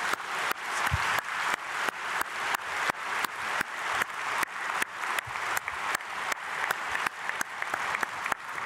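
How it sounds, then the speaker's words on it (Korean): Applause from a congregation at a church early-morning prayer service, heard as dense, continuous clapping that rises and falls in regular swells, fairly loud and uninterrupted, with no talking over it. "우리 크게 박수로 축복하겠습니다."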